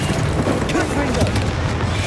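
A Confringo blasting spell explodes in the Hogwarts Legacy video game, giving a dense, continuous booming rumble that stays loud throughout, with a voice shouting spell names over it.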